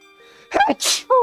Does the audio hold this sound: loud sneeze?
yes